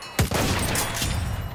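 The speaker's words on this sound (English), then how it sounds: "Machine gun, one of them." Machine gun fire in the World War I shooter Battlefield 1, opening with a loud, close blast that gives way to a dense, sustained rattle of shots and battle noise.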